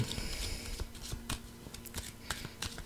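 A brand-new deck of fortune-telling cards is shuffled up close, a quick papery rustle of crisp cards flicking together in short bursts.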